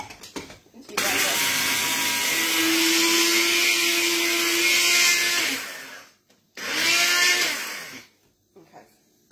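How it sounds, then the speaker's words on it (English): A kitchen blender grinds whole Cajun spices such as cumin in a loud, steady whirring roar for about five seconds, stops briefly, then runs again in a shorter burst. "Into your blender."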